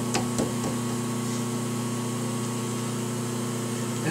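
Lathe motor running at speed, a steady tonal hum with a strong low drone and faint higher whine, close and constant, with a couple of brief clicks near the start.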